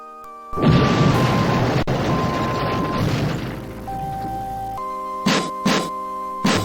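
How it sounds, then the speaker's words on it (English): An explosion in the video game Space Quest 6 from behind a door: a loud, deep boom bursts out and rumbles on, fading into a low ringing hum, followed by a few short bursts of noise. "you hear and feel an explosion which seems to have come from behind the door"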